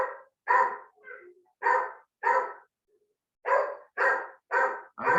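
Dogs barking in repeated sharp bursts, several barks in quick succession with short pauses between, fairly close and loud, with no talk over them.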